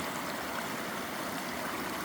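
River water rushes steadily through a gold sluice box set in a small stream with hand-built dams, a close, continuous broadband wash with no talking.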